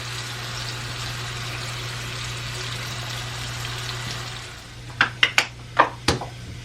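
Tap water running steadily at a sink while hands are washed and rubbed with soap, a continuous hiss with a low hum beneath, followed by a few sharp splashes and knocks near the end; no talk.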